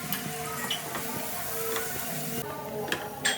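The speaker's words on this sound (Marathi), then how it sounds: "चांगले परतवून घेते म्हणजे चांगला त्याला सुगंध येईल" Ingredients sautéing in a generous amount of hot oil for a chutney, with a steady close crackling sizzle and occasional light ticks and scrapes of stirring throughout, no talk.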